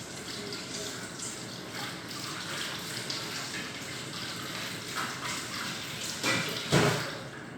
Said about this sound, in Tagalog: Tapos hugasan ko naman yung cucumber ko.